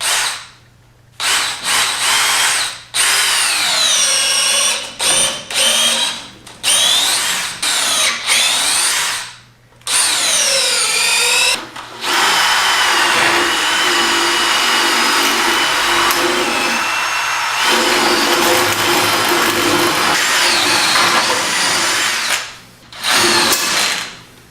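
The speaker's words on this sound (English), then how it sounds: "So let's just drill this out." A power drill bores out a control arm bushing on a 1988-1998 Chevy OBS truck, running in loud repeated bursts with short pauses, then a long sustained whining grind before stopping.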